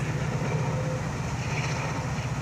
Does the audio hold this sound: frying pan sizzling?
no